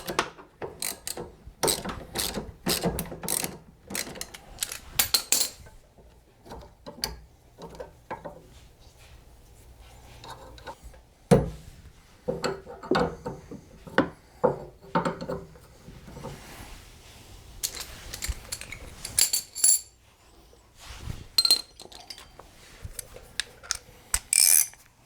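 Wrench and ratchet work loosening the sway bar link nut on a Pontiac GXP during a coilover install: bursts of rapid ratchet clicking and metallic tool clinks, close and intermittent, with pauses between runs.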